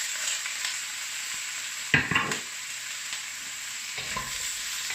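Pork stir-fries with ginger and onions in a hot pan, a steady close sizzle broken by a couple of louder scraping stirs.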